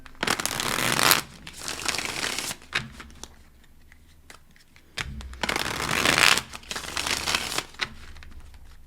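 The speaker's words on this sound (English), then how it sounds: "I'm going to shuffle these again" A deck of tarot cards is shuffled in two long riffling bursts of crisp, papery rustle, close and fairly loud, with a quieter pause of soft handling between them.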